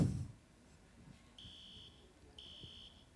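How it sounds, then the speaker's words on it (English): A building fire alarm sounds in two separate bursts of steady high-pitched tone, each about half a second long, fairly faint and distant in a quiet room after a brief thump at the start. "See, you can hear also, right? The fire alarm sound."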